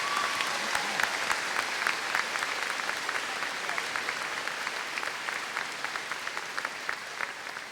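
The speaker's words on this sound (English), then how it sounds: "Big round of applause for our award winners in this group." Steady applause from a sizable crowd at a middle school 8th grade promotion ceremony, dense and sustained throughout, with no talking over it.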